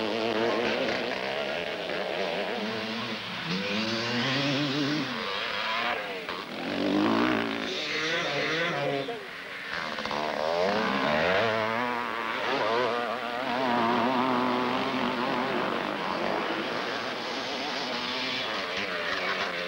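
A field of old-school motocross motorcycles races, several two-stroke engines buzzing and whining together, pitches rising and falling as riders accelerate and back off, loud and continuous with passing surges.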